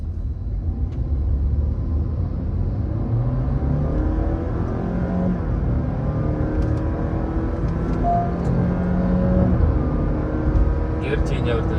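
A Honda City Hybrid e:HEV with a 4-cylinder petrol engine and CVT accelerates on the road, a steady low rumble and whir with gradual pitch rises through the run, heard from inside the cabin.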